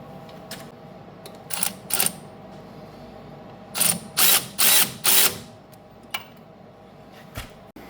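Ratchet tightening sway bar links on a 30-year-old car front suspension, a few short clicking bursts, then four louder evenly spaced runs of ratcheting, close up over a faint steady hum.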